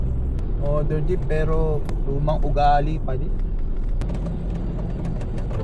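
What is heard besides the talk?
modern jeep engine on the road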